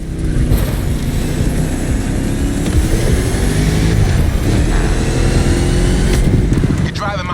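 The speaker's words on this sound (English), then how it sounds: "You're driving my #1 car, the star of my collection, the 1969 Mustang Boss 429." A 1969 Mustang Boss 429 in The Crew Motorfest roars with a loud, sustained engine drone that rises and falls through gear changes for several seconds, with a brief dip near the end.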